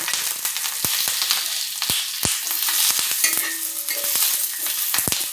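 Green chillies fry in a little oil with a bright, crackling sizzle, punctuated by sharp spoon scrapes and taps against the pan, close up and with no talking.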